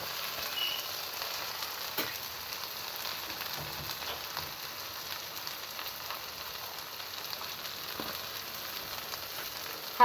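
Chopped onions frying in mustard oil, a faint, even crackling sizzle that runs steadily throughout with a few small pops and no talk.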